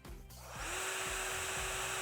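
Metabo SB18LTX-3 BL Q I 18V cordless three-speed hammer drill run in straight drill mode: a short click, then the motor spins up into a steady, high whirring hum held close and unbroken.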